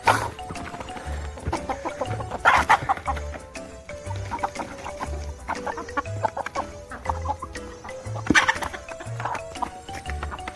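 Bangkok chickens cluck and peck while feeding on a farm, with repeated close clucks and scratchy movement throughout and a few louder bursts.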